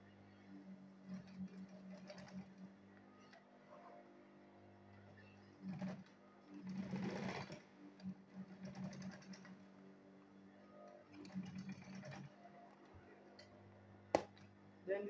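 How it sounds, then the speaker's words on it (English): A sewing machine stitches a handbag lining in quiet, intermittent whirring runs, with faint handling noises and brief pauses between the short bursts. "Then we'll sew it."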